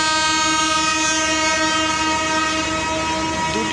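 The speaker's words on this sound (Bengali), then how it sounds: "দুটি ট্রেন কিন্তু একসাথে ছাড়লো" At a station, the 731 Up Barendra and 766 Down Nilsagar trains depart together. A loud, sustained train horn sounds throughout over the rumble of rolling stock.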